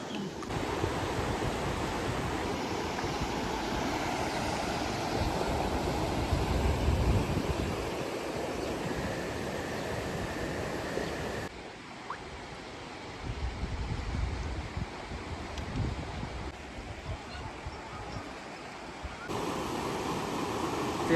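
Continuous broadband rush of surf with low rumbling swells, steady and fairly loud, dipping briefly midway before rising again; no voices.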